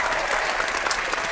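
Applause from a group of people fills the moment, a dense, steady patter of clapping at moderate level with no talk over it.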